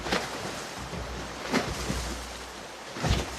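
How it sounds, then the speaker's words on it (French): Small waves on the Dordogne river in Corrèze wash around a traditional wooden boat, a steady rushing of water and wind with several sloshing surges, close and fairly loud. "donc là on est dans les petites vagues d'aujourd'hui"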